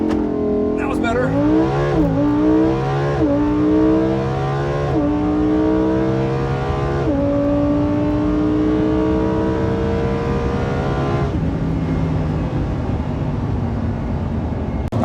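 A Lamborghini Huracan EVO LP640-4 launches hard, its engine screaming up through the revs in a series of rising sweeps with quick upshifts between them, loud and close throughout, with some talk over the engine.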